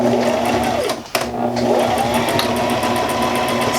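A sewing machine runs steadily while stitching along the edge of a reusable cloth pad, a close, continuous mechanical hum with one brief pause partway through.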